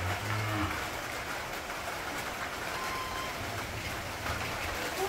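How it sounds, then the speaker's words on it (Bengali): Light drizzle patters softly and steadily outdoors in a Bangladeshi village, a faint, even hiss under a low background rumble, with brief distant voices. "বৃষ্টি মোটামুটি আর কি ছিটা ফোটা হইতেছে"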